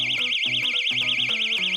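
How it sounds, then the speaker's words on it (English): A personal defense alarm keychain shrieks with a loud, warbling high-pitched siren that sweeps up and down rapidly and continuously, over a stepping lower tone pattern. "This is a personal defense alarm keychain."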